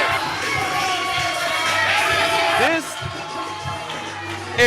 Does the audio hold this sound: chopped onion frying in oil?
no